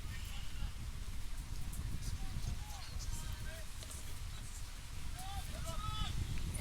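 Heavy rain falls steadily during a Wednesday-night men's soccer match between Woodbridge Strikers SC and Sudbury Cyclones, a constant broad hiss heard from a distance, with faint whistles and shouts rising briefly above it.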